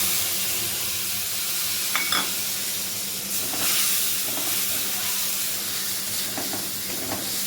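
Ginger and green chili paste frying in hot oil gives a steady, close sizzling hiss throughout, with a few faint clinks of a spatula against the pan.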